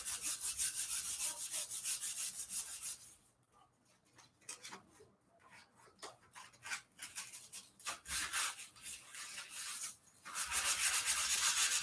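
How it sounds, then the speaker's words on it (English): Dollar-store sandpaper rubs back and forth over a cereal box cardboard cover in a loud, steady scratchy rasp, with a quieter stretch in the middle before the strokes grow strong again. "And this is just sanding paper from the dollar store."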